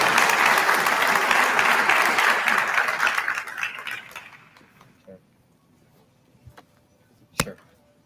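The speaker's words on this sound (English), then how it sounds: "Please give another round of applause to all these award recipients" An audience at a sheriff's office police awards ceremony applauds the award recipients, a full round of clapping that fades out over several seconds, followed by a few scattered isolated claps and a sharp knock.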